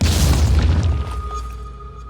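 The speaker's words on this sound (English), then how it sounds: "throw a little grenade here, get rid of this worm" A grenade blast in the tactical video game Phoenix Point: one loud, booming explosion that hits at once, then decays into a rumbling tail with a faint lingering tone as it fades.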